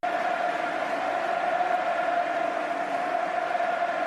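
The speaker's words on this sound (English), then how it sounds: "This crowd absolutely singing their love for Lionel Messi." A large football stadium crowd sings a steady, droning chant for Lionel Messi at a Barcelona versus Atlético Madrid match, a loud, unbroken roar of massed voices from distant stands.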